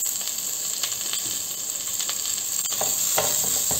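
Garlic and onion sizzle in oil in a pan with a bay leaf, a steady, bright close-up hiss with a few scraping stirs near the end and no one speaking.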